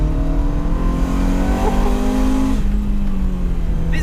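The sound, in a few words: Ferrari 355 engine while driving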